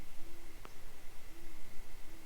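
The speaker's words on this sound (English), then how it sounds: "owls hooting" Owls hooting at night in a Minnesota state forest beside a tent, two soft hoots drifting in from a distance over a steady background hiss of insects.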